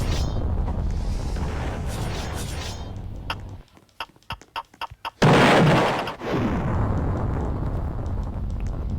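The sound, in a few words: bomb explosions in a video game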